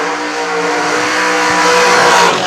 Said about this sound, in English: It's probably one of the longer burnouts that dragster's done